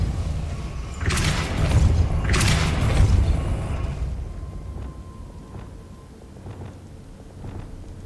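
A Depulso force spell cast in the video game Hogwarts Legacy lands as two loud, booming thuds around one and three seconds, then fades into a quieter ambience with faint small knocks.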